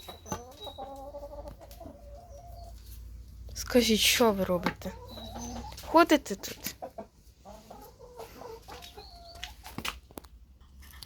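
Hens cluck and squawk intermittently around a person speaking, with a louder burst of flapping and cackling partway through.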